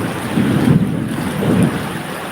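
A thunderstorm over a village: heavy wind buffets the microphone and rain roars in a steady wash, with two swelling low rumbles rolling through. No one speaks.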